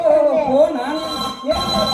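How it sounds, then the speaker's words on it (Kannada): A telephone rings on stage during a live Kannada comedy drama, a loud, tuneful ringtone playing steadily and close by, with voices mixed in. "ನಿನ್ನ ರಿಂಗ್ ರಿಂಗ್ ಫೋನಿನ ರಿಂಗ್"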